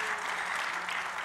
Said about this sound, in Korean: 우리 격려 박수 한번 하도록 하겠습니다.